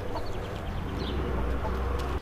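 Chickens feeding on prepared feed in a yard, with soft clucking calls over steady pecking and scratching noise, continuous and fairly close, no talking.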